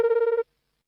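A cartoon telephone gives one short, clear electronic ring burst that stops abruptly, followed by silence.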